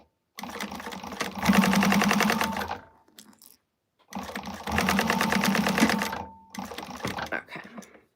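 A sewing machine stitches together the seams of a bag, running in two long, loud bursts of steady rapid whirring with short pauses between, close by and without talk.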